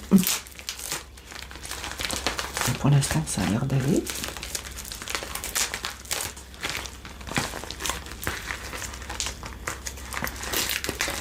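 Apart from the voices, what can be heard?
package being opened, crinkling plastic wrapping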